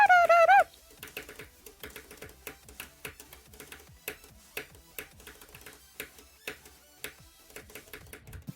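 Keys pressed on a Wooting keyboard while playing Geometry Dash: sharp, light clicks tap in an uneven, rapid rhythm under faint game music, close and fairly quiet, after a brief louder tone at the start.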